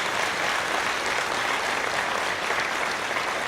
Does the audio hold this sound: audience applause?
yes